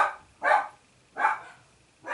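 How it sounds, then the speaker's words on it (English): A pet dog barking indoors at home, three sharp single barks spaced evenly about three-quarters of a second apart, close and fairly loud, with no talk. "excuse the dog's barking there"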